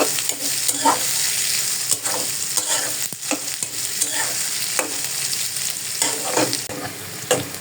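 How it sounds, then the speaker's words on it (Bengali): Small shrimp frying with hot little green chilies in a pan, a steady close sizzle with repeated stirring scrapes and clinks recurring through the whole stretch. "এখন এটাকে সুন্দর করে আমি ভাজা ভাজা করবো"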